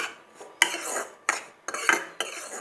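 A utensil scrapes and stirs atta flour roasting in a pan for halwa, producing four distinct metallic scraping strokes against the pan at close range, with no talk.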